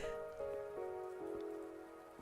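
Rain falling in the video game Wuthering Waves, a steady soft patter on surfaces heard over a sustained tonal music bed, with no talking.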